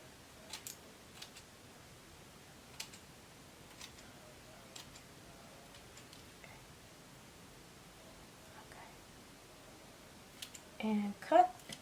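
Scissors make sparse soft snips and ticks while cutting a bald cap for a wig install, quiet and close, followed by a short burst of louder voice near the end.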